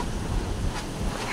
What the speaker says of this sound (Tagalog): Nakakagulat ang alon nito talaga.